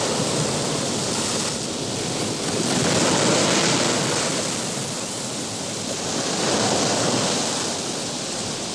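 Stormy open ocean off Monhegan island in winter, with a broad, loud roar of surf and wind that swells and eases in slow surges, with no voices.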